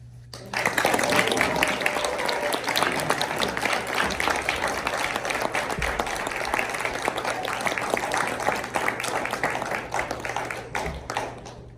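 Sustained applause from a sizable audience after a speech at a talk event, steady and dense for several seconds before tapering off, with some voices mixed into the crowd.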